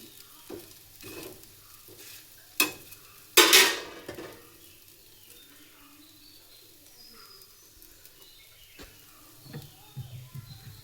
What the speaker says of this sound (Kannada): ಸೊ ಇವಾಗ ಇದನ್ನು 2 ಕಡೆ ಚೆನ್ನಾಗಿ ಬೇಯಿಸ್ಕೋಬೇಕು.